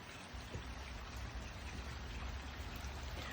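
Rain falls steadily outdoors, a dense, even patter and hiss of drops on surfaces, constant and moderately quiet throughout, with no voices.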